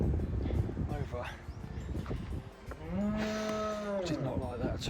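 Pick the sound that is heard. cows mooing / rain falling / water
cows mooing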